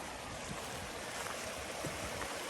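Creek water flowing along a hiking trail near a bridge, where it runs into a lake; a steady, broadband rush that holds close and even throughout, with no talking.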